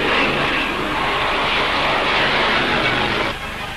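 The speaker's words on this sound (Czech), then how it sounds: "Nálet britských strojů." British warplanes in an air raid, recorded for a wartime newsreel: a loud, sustained roar of aircraft engines that drops off slightly near the end.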